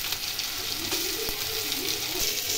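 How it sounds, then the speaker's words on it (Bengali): Spice paste for a Bengali vetki fish curry fries in oil with a steady, close sizzle and faint stirring scrapes throughout. "মশলা কষানো হয়ে গেছে"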